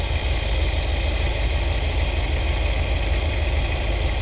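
Steady, loud idle of a 1973 Ford Econoline van's V8 engine with an Edelbrock carburetor at about 600 RPM, a constant low rumble and hiss, unchanging throughout, with no voices.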